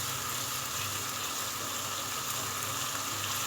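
Masala for nargisi kofta curry fries in a pan with a constant, even sizzle and hiss at moderate volume, and no one speaks.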